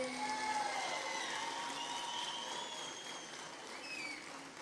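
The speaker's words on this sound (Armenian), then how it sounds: "Վարդենից խոշորացված համայնքին բարձր ծափեր" A festival crowd applauds for the Vardenis enlarged community with a continuous, hiss-like wash of clapping and a few whistles that fades slightly toward the end.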